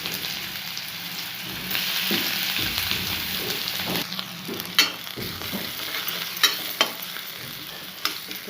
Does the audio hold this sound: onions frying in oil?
yes